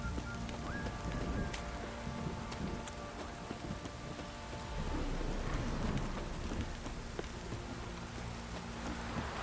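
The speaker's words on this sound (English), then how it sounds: "This downpour's a bastard" A heavy downpour in The Witcher 3 video game, dense steady rain hammering down with low rumbles of thunder, continuous and loud with no voices.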